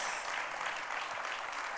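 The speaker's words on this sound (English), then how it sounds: "Can you give a clap for my daughter Samantha," Steady applause from an audience at a back-to-school talk, clapping for a girl named Samantha, a dense even wash of hand claps lasting under two seconds at moderate, fairly distant level.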